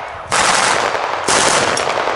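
Light weapons fire at a firing display at Ushaw, two loud, rapid bursts of automatic gunfire, the second beginning about a second after the first.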